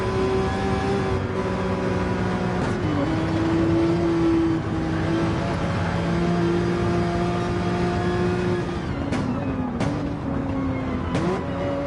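GT3 race cars in Gran Turismo 7 at the Kyoto circuit, high engine whine revving steadily with gear shifts and pitch dips, one car close and loud with others mixed in.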